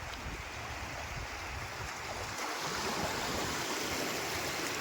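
Tidal water flowing at the Mousuni island estuary in winter, a continuous rushing wash of current and small waves mixed with wind, steady and fairly near, with no talk.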